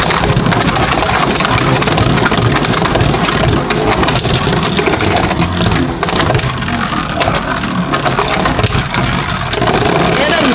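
Beyblade Burst Turbo tops battling in SlingShock mode in a stadium, a loud dense continuous grinding whir and clatter of spinning plastic and metal, with a voice talking over it.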